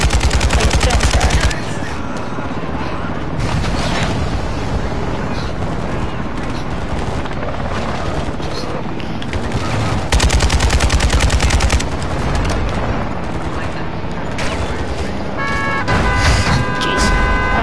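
Call of Duty Modern Warfare 2 campaign combat with loud, sustained gunfire: dense machine-gun bursts and repeated shots, nearly continuous throughout, with brief explosive surges.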